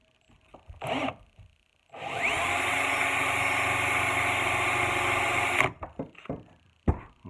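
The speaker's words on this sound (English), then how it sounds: "we're going to take and drill a hole right where they meet" A steady, loud mechanical whir of a power drill runs continuously for several seconds, with brief handling clatter before and after.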